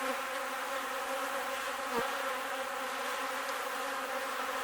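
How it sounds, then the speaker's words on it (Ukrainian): A dense, continuous buzzing of many honey bees at a hive entrance, steady and close, with no voices. "на лютку у нас ось тут ціла купа бджіл"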